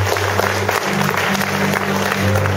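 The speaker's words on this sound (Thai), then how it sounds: "เราปรบมือให้กับอาจารย์สุพิพลด้วยกันครับ" Audience applause for a translator at a Thai church sermon, a steady dense wash of clapping from a large congregation lasting throughout, with a low sustained hum underneath.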